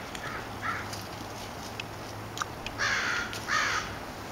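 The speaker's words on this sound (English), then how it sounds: "Crows are scolding us in the background." Several crows caw in short bursts, some faint and distant, others louder and nearer, over a quiet outdoor background.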